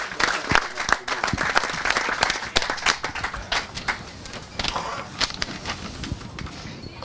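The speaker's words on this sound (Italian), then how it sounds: "Luca Grandicelli, un grande applauso anche per lui." An audience applauds at the presentation of a football club's squad, dense and steady clapping from a crowd that holds for several seconds and slowly thins, with an announcer's voice partly heard over it.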